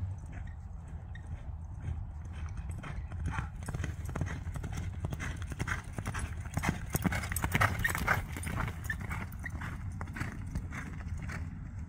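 A Spanish horse walking by the Angelina River makes a steady run of clip-clopping hoofbeats at moderate distance. The hoofbeats are faint to moderate over outdoor background noise and swell slightly toward the middle.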